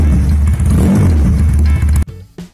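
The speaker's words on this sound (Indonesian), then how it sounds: "Kelebihan motor cruiser dengan harga di bawah 50 jutaan rupiah ini punya suara mesin dan knalpot yang istimewa." A Benelli Patagonia Eagle cruiser motorcycle revs loud and close, its engine and exhaust holding a deep, steady drone for about two seconds before cutting off sharply, followed by a brief fainter burst.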